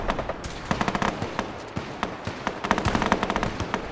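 Rapid bursts of gunfire from Gunner conscripts in Fallout 4, with sharp cracks clustering into fast automatic volleys and scattered single shots, loud and close, continuing steadily throughout.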